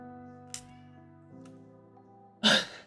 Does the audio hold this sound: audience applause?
no